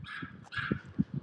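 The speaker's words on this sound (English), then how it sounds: "that dog is yapping over there." A dog yaps in a quick run of short, high barks and yips from a moderate distance, with faint background noise.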